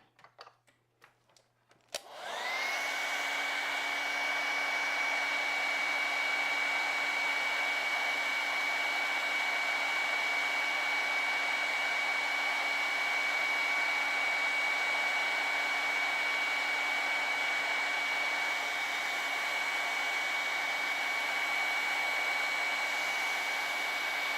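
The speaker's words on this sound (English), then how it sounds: "And take the hairdryer to that." A hair dryer switches on after a brief clatter and blows steadily with a loud, constant whine and rush of air for the rest of the clip.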